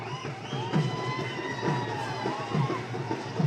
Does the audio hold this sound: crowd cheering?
yes